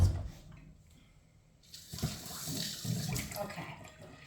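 Tap water runs into a container to be added for grinding, starting suddenly after a quiet moment and flowing steadily and close for a couple of seconds.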